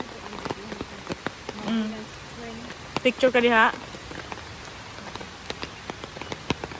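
Heavy rain pouring at Mabinay Spring in the Philippines during flooding, heard as a dense, steady patter of drops with sharp close splashes, while people talk briefly over it.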